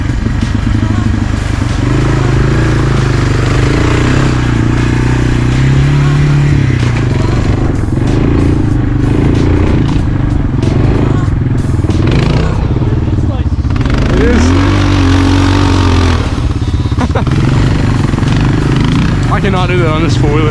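A Honda 300 four-wheeler engine labors loudly up a hill in too high a gear, a steady close rumble with shifting pitch, rattles and clatter throughout.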